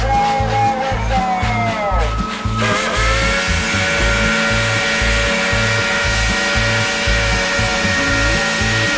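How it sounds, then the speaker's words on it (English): Steam whistle on the Dollywood Express locomotive Klondike Katie blows a loud, sustained tone that steadies after a wavering start, with a rhythmic low chugging pulse running beneath it throughout. "we let him tune his own horn a bit on that Mulder Locomotive whistle"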